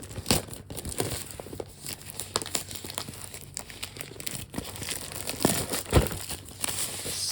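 Plastic packaging of a Star Wars Cosbi villains toy box being opened, with close, irregular crinkling and crackling bursts, scattered tearing and rustling, and no talk.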